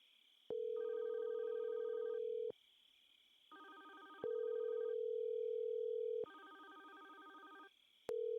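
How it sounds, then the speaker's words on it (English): A phone ringback tone during a call repeats in long electronic bursts with pauses between them, steady and fairly clear, over a faint high-pitched hiss of interference. "I know you can hear that phone, Johan."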